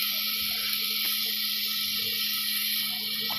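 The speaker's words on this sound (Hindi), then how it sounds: "तो अब हम इसमें पानी डाल देंगे" Water poured into a pan of fried onions and spices for a carrot and meat curry, giving a continuous sizzling hiss that stays steady and close from start to end.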